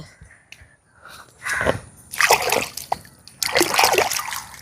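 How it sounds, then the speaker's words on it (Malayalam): Something is washed by hand in water drained from a fish tank, with several close, loud bursts of splashing and sloshing separated by short quieter pauses. "അത് ഇവിടുത്തെ വെള്ളത്തിലൊന്ന് കഴുകി കാട്ടിത്തരാം"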